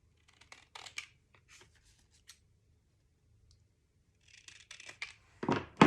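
Scissors snip through paper for a card tag in short, crisp bursts, quiet at first with a pause in the middle, then a closer, louder flurry of cuts at the end.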